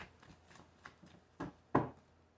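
Tarot cards are shuffled by hand in a run of soft papery flicks and taps, ending in two louder slaps as the deck is squared, close and alone.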